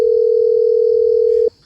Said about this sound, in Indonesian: udah yang kesekian kalinya ini gue telepon gak diangkat-angkat